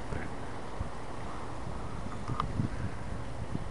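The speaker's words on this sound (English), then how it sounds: "wind is kicking up" Steady low rumbling wind buffeting outdoors on a cold, snowy day, a continuous blustery roar with faint rustling, no talking.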